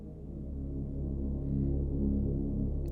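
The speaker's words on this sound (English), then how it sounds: "kind of dark, cinematic drone things" A deep, dark cinematic synth drone holds a low, steady hum with slowly thickening layers, sustained and alone.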